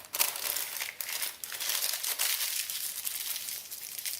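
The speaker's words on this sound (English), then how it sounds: "Wrap each tomato individually in a paper or newspaper." Continuous crinkling and rustling of brown paper or newspaper as a tomato is wrapped by hand, close and fairly loud with irregular crunchy bursts, no talking.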